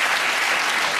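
A television studio audience at a comedy panel show bursts into a loud, dense wash of cheering and applause that holds steady throughout, with no voices above it.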